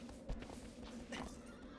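A horse in the video game Shadow of the Colossus lets out a close, clear whinny over soft hoof clops and a low background hum, with no talk.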